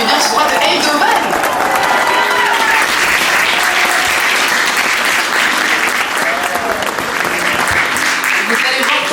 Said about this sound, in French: Il faut qu'on applaudisse encore plus